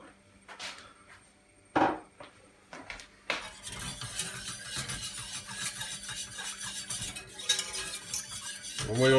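Milk being stirred in a pot, with a spoon scraping and clinking against the metal at a near distance. Scattered knocks come first, then steady, continuous stirring and scraping noise runs through the rest, with no talking.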